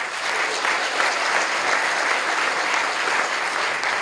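Steady, dense applause from a large conference audience at the opening of an augmented reality expo, sustained evenly at a loud level for a few seconds with no speech over it.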